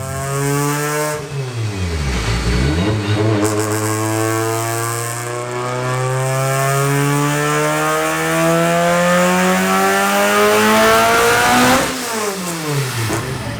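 A tuned 2020 BMW M2C on E85 revs hard through a dyno pull, its loud engine note rising in pitch over several seconds, dropping briefly and climbing again with no talk over it.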